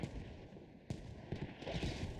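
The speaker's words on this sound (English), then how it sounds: "good mortar fire from KOD out here" Mortar rounds impact in a tactical military shooter match, a cluster of heavy booming blasts with sharp onsets around the middle and a rumbling wash of further explosions after, fairly distant and alone without talk.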